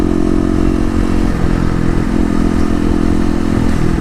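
A 2018 Kawasaki KLX250 with Stage 1 mods rides through the city, its single-cylinder engine droning loud and steady with slight pitch shifts as the throttle changes, plus wind buffeting, no talk.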